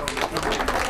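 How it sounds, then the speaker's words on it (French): An audience applauding cyclist Nick Schultz on the podium at a cycling race: a brief, dense patter of many hands clapping together, steady and moderately loud. "On applaudit Nick Schultz"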